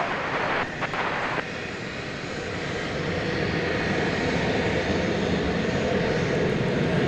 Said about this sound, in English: I believe this is still the Fresno-bound aircraft.